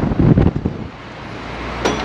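Wind blows hard through a snowy Hamburg street during a snowstorm, a steady, rough rumble on the microphone with a few stronger gusts at the start and a brief swell near the end.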